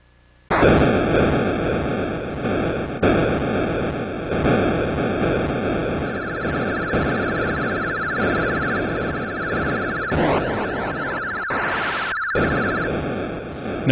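Missile explosions in the Atari 2600 game Missile Command: a loud, continuous wash of harsh electronic noise with bright buzzing tones and repeated bursts across the whole stretch, with no voices.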